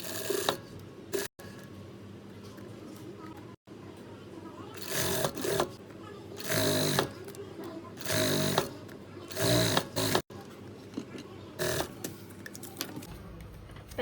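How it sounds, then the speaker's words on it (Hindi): Sewing machine stitching fabric strips onto a pair of pants, quick bursts of rattling stitching in repeated short runs separated by pauses, with someone talking in between. "ये दूसरी साइड से हम इनको स्टिच करेंगे पट्टियों को।"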